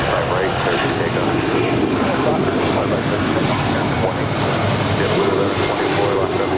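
Loud, continuous roar of an airliner's engines during takeoff from runway 25 Right at Los Angeles International Airport, a broad rumbling wash that stays strong throughout, with radio voices talking over it.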